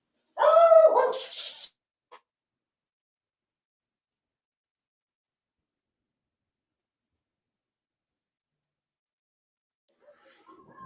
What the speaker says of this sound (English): Sorry, dogs got out and it was all chaos.